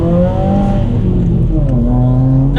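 Subaru WRX accelerating on a roughly three-quarter throttle pull, its engine note climbing, dipping briefly at a gear change, then rising again, loud and close from inside the car with no talk.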